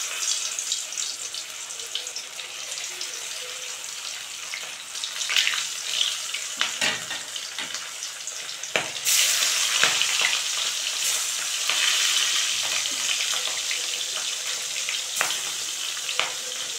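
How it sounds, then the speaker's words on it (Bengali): Silver carp pieces rubbed with salt and turmeric sizzle and crackle steadily in hot oil, a dense continuous frying hiss with occasional sharper spits and stirring, no talk over it. "তেল গরম হয়ে গেছে। নুন দিয়ে হলুদ দিয়ে মাছগুলো মেখে নিয়েছি,"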